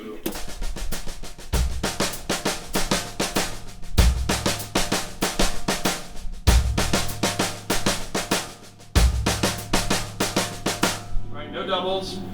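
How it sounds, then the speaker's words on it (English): Rapid, steady hand-to-hand sixteenth-note snare strokes roll continuously with periodic heavier accented hits, fairly loud and close, with low drum thumps at regular intervals. "play the accents without the doubles, hand to hand, 16 notes on the snare"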